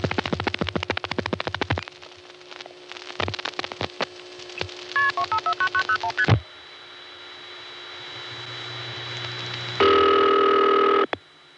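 Telephone dialing of a New York office code on a 1975 exchange after a central office fire: rapid clicks and a run of touch-tone beeps, then a long tone followed by a loud steady signal.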